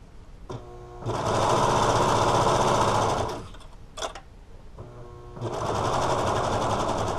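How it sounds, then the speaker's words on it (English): A serger trims and sews the seam of a knit band in two loud, steady machine bursts with a short clatter between them. "I've just cut off all of the seam, and now I'm making sure that my blade doesn't cut the seam there"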